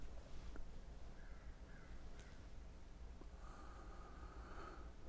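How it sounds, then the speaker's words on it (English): Faint, distant caws from ravens outside, a few hoarse calls spaced over several seconds against a low background hum. "I heard the first one, the crows outside. Raven, actually."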